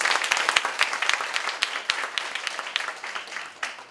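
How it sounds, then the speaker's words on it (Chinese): An audience at a teaching workshop claps, a burst of many loose, fairly close hand claps that gradually thins toward the end. "给她一个掌声。"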